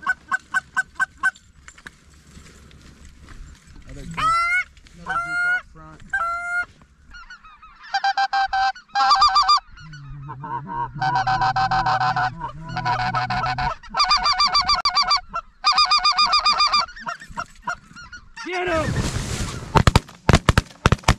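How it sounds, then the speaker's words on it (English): Canada geese honk at a waterfowl hunt, their calls coming in repeated clusters of nasal honks, fairly close and loud, with a sharp blast near the end. "Two honkers right behind us."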